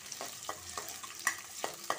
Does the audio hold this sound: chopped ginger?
yes